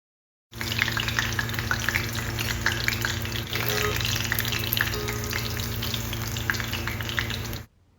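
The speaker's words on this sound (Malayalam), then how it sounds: "ബാക്കിയുള്ള ചിക്കൻ നഗറ്റ്സ് മുഴുവനും നമുക്ക് ഇതേപോലെ ഫ്രൈ ചെയ്തെടുക്കാം." Chicken nuggets deep-frying in hot oil, a steady, loud, dense sizzle with crackling pops that fades out at the end.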